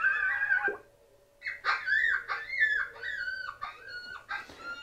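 High, broken yips and whimpers of a coyote pup distress call, repeating in short choppy bursts from an electronic game caller's speaker after a brief pause.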